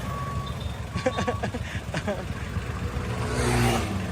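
A vehicle passes on a road, its engine swelling as it draws near, with rhythmic reversing beeps and people talking nearby.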